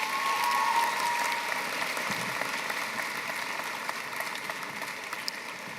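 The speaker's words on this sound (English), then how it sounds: "Let's get another round of applause for Poocher" A graduation audience applauds a valedictorian in a large hall, a sustained wash of many hands clapping that holds steady for several seconds and slowly eases, with no one speaking over it.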